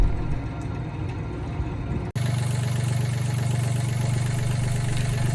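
A sailboat's inboard engine, now on new batteries, is running with a steady low rumble, then cuts abruptly and restarts into a louder, even idle that continues throughout.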